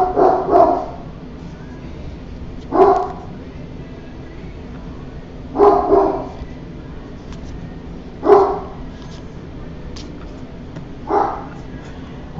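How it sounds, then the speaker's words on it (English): A dog barks in five short, loud bursts spaced a few seconds apart over a quiet room background, each bark a sharp one- or two-note woof, with no speech between them. "And there goes my dog."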